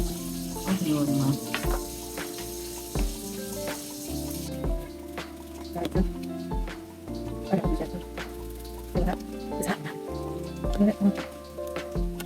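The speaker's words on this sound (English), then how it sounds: "it's boiling the nasty stuff off" Food boils in a pot on a stovetop with a busy bubbling sizzle and crackle, while voices talk throughout over the cooking noise.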